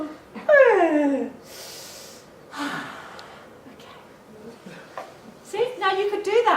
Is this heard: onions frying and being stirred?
no